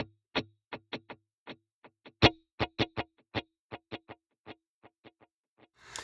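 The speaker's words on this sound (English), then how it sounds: "it's going to send a dotted eighth delay left and an eighth delay to the right" Guitar through a Fractal Axe-FX III stereo tape dual delay, dotted-eighth repeats on the left and eighth repeats on the right, producing crisp, distorted plucked notes with bright echoes in a quick, irregular bouncing rhythm, loud and up front.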